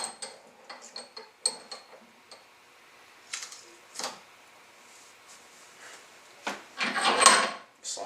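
Metal Glock pistol slide being set into a vise and clamped, heard as a series of sharp clicking, knocking contacts followed by a louder grinding squeak of the jaws tightening, close and alone.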